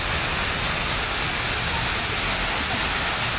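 Water pours steadily down a large waterfall wall at a children's museum in uptown Houston, making a loud, unbroken close-up rush with no pauses.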